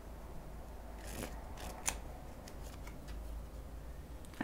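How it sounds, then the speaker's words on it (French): A card is drawn from a fortune-telling deck with soft papery slides and a sharp little snap, quiet and close over faint room hiss. "je vais tirer une carte sur l'attaque"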